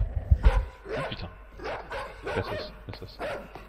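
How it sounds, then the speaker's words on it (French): Dogs barking in the dark video game Inside, several sharp yelping bursts in quick succession at moderate distance, with a thudding impact near the start. "Les chiens."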